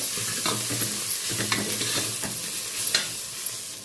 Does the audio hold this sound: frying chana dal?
yes